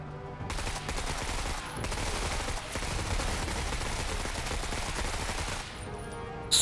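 Sustained gunfire in a sci-fi turn-based tactics battle in the video game MENACE, a dense continuous fusillade of rapid automatic shots that stays loud throughout, with no talking over it.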